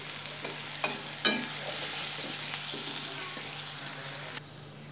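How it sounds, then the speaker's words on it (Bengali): Chopped ginger and green chili frying in oil over lowered gas for egg chops: a clatter or two of a spatula, then a steady hiss of sizzling that cuts off abruptly near the end. "এটাকে ভাজতে হবে যতক্ষণ না ব্রাউন কালার আসবে।"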